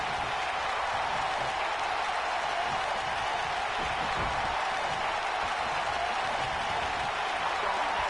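Steady roar of a cheering arena crowd in WWE Universe Mode, a dense wash of noise that holds level throughout with no clear breaks or talk.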